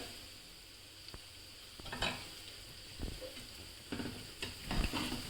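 Boondi batter drops fry in hot oil over a medium flame, making a soft, low sizzle with intermittent stirring clatters and scrapes that grow a little louder toward the end.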